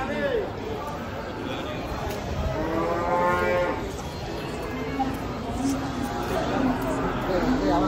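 Cattle moo repeatedly while being unloaded from a truck, drawn-out low calls rising over a busy background of crowd noise and people talking.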